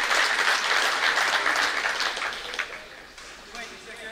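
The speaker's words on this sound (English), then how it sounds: "you can hear the applause from the, from the crowd for that." Crowd applause at a racketlon world championship semi-final, a broad sustained wash of clapping that fades toward the end, heard under a commentator's talk.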